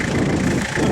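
A diesel engine firing on a cold start with jump leads attached, a brief loud rough idling rumble close by with no talk.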